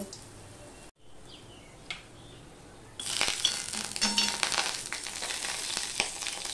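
Ash gourd pieces dropped into a hot wok with a little oil, a quiet start followed by a sudden burst of loud, steady sizzling frying that continues with small crackles.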